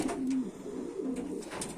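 Pigeons in a loft give soft, low cooing calls, a couple of faint rolling coos close by over a quiet background.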